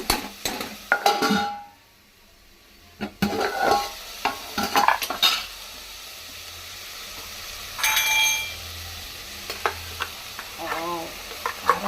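Spice masala for bisi bele bath frying in a pan, with stirring and clinks of a utensil against the pan; sizzling bursts come and go around pauses, with little talk.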